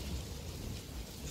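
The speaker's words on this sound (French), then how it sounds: "on a la pluie déjà" Steady rain falls outside a temple in Kyoto as a storm sets in, a close, even hiss of drops spread across the whole clip with no voices.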